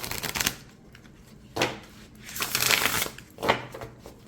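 A tarot deck is riffle shuffled by hand, with soft flutters of cards fanning together in several short bursts, close and fairly quiet with pauses in between.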